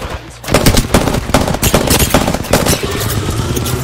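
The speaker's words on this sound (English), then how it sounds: "This guy's still fucking shooting." Automatic gunfire in Apex Legends rattles in loud, rapid bursts of close shots, pulsing in uneven clusters with no speech over them.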